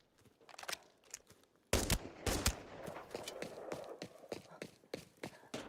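Rapid AEK assault rifle fire in a first-person shooter video game, several short automatic bursts of sharp cracks with brief pauses between them, close and fairly loud throughout.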